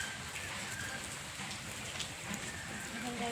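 Heavy rain pours steadily, a dense continuous hiss of drops on surfaces, fairly faint and without pause.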